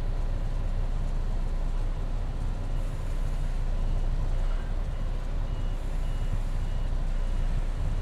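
A truck coupled to a trailer creeping forward slowly in low gear, its diesel engine a steady, loud, low rumble close by, with a faint repeating beep in the background and no talk.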